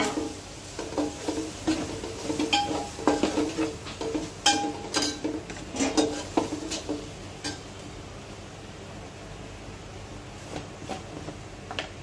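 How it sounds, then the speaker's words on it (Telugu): Spices being stirred into paneer for a homemade paneer biryani, heard as scattered ticks and scraping clinks of a spoon against a pot, busier in the middle and quieter toward the end, with faint sizzling. "ఇవన్నీ వేసుకొని బాగా కలుపుకోవాలి"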